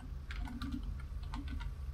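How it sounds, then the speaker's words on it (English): Close, fairly loud clatter of keys on a PC computer keyboard just behind a microphone, in a steady run of uneven clicks with no talking. "If you wonder why I type really slow as well"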